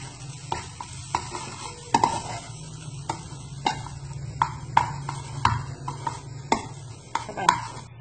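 A utensil scrapes and taps repeatedly against a pan as stir-fried glass noodles with mixed ingredients are tossed, the irregular clacks standing over a soft background sizzle, with no voices.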